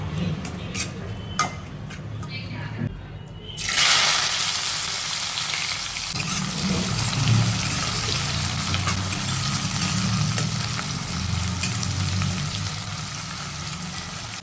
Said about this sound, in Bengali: বাঁধাকপি রান্না হচ্ছে চিংড়ি মাছ দিয়ে ঠিক আছে দিয়ে দিলাম